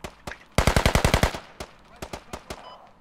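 Automatic gunfire in the military shooter game Squad: a rapid burst of about eight loud close shots, followed by scattered single reports and a few more distant pops.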